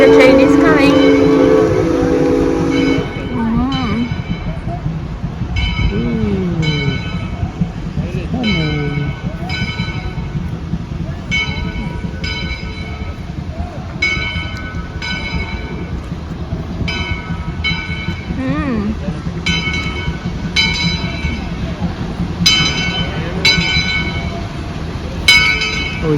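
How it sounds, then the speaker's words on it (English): A steam logging train on the Yosemite Mountain Sugar Pine Railroad rumbles past up close with rhythmic clanking and squealing wheels, bells ringing in the background, and people talking under the noise. "It is coming, the train is coming."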